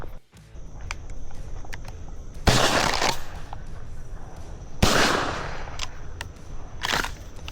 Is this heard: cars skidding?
no